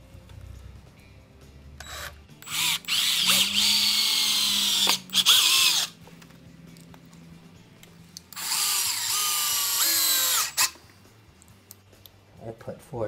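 A power drill drives screws into the wooden top of a homemade sawhorse: two long whirring bursts, each about two to three seconds, close and loud, with someone talking faintly between them.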